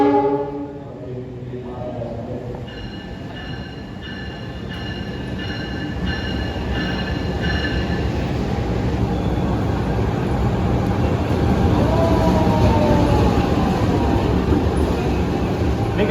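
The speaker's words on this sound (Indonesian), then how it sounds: "Ini kayaknya lokomotifnya Sangkuriang ya teman-teman, diganti sepertinya." Indonesian KA Sangkuriang passenger train at a station during a locomotive change, with a steady loud rumble of idling engine and rail noise, a brief rising tone early on and a long metallic squeal late, no talk.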